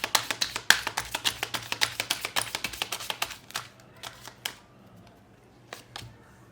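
A tarot deck is shuffled by hand in a quick run of crisp card flicks and slaps that slows into a few scattered taps near the end, close and clear with no talking.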